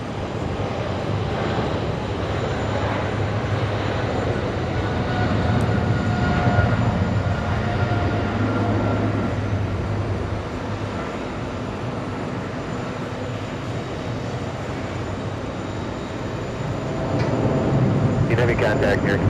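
British Airways airliner Speedbird 116 taxiing at JFK airport on a hot summer day, a steady mid-distance engine rumble with a low drone that swells slightly midway and again near the end.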